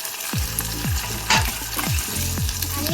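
Curry leaves, onions and green chillies sizzling in hot oil in a pan, a steady crackling fry with repeated stirring scrapes at a regular rhythm, close and alone without voices.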